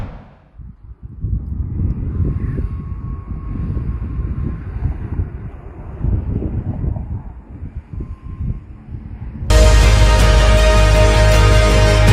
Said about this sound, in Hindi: लेबनान के इलाके में अभी भी लगातार इजराइल के फाइटर जेट उड़ते हुए नजर आ रहे हैं।